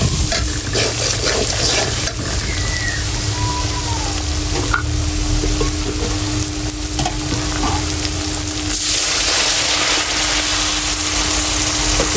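A spice paste with turmeric and chili frying in oil, a loud steady sizzle under repeated stirring scrapes, with a low hum running beneath and the sizzle swelling louder near the end.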